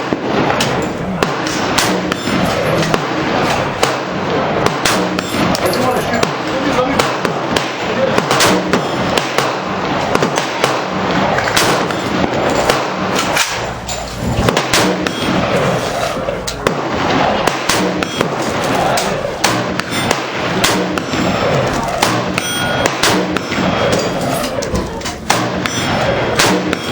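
Shots fired while zeroing a red dot sight at a range, loud sharp reports and thumps recurring throughout, densely packed with steady background noise.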